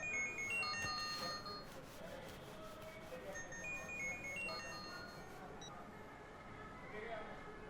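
A phone rings with an incoming call, its repeating electronic melody tones cutting through background noise and a voice for several seconds before stopping.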